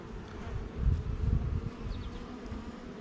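Honeybees buzzing over an open hive as the frames are inspected, a close, steady low hum that swells briefly in the middle, with no talking.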